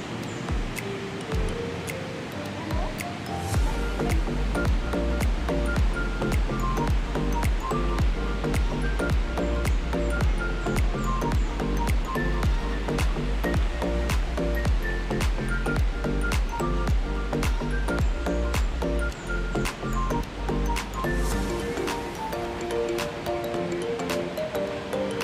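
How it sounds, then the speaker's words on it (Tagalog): Continuous rushing river water flows loudly and evenly throughout, a dense close wash with faint rhythmic tapping over it. "Ang sarap pakinggan ng ilog"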